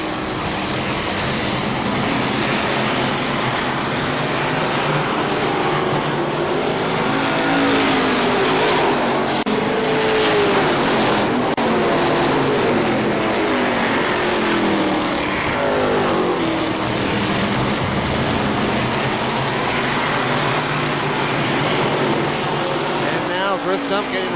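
Legends race cars at KilKare Speedway circuit racing in a pack, a steady loud roar of several engines with rising and falling pitch sweeps as cars pass, with a faint announcer voice blended into the din.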